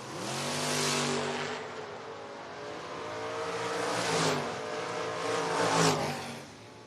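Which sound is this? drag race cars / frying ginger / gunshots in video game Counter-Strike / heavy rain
drag race cars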